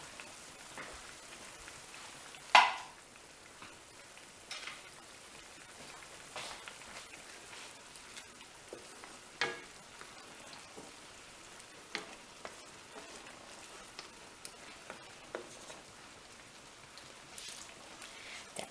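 Butter for chicken marsala sizzles and crackles softly in a hot pan, a steady low fry with scattered faint pops and one sharper clack early on, no voices.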